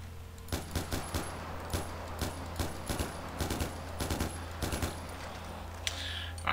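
Bursts of automatic gunfire in Far Cry 4, rapid volleys of shots in clusters over a steady low game hum, moderately loud with no talking.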